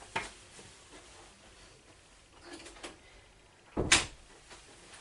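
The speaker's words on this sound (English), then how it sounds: "Okay, I closed the door." A door is closed indoors, a faint click early on, soft shuffling, then a sharp, fairly close thud near the end.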